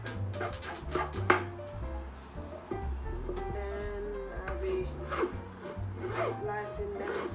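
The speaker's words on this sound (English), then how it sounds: "And then we're gonna cut them in halves." Knife cutting carrots in halves on a board for a Christmas dinner, several close chopping knocks spread through the clip over faint background music.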